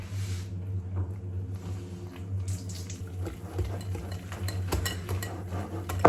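A child whisks cottage cheese waffle batter in a bowl. Light clinks and scraping taps of the whisk against the dish come in an irregular rhythm, close by, over a low background hum.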